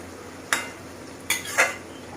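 Prawns being stir-fried with bottle gourd in a pan, heard as three sharp clinks and scrapes of a spatula against the pan over a quiet background, with no sizzle standing out.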